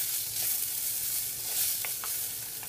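Onions and fenugreek seeds frying in a pan, a steady close hiss and sizzle with faint crackles and pops now and then, no voices.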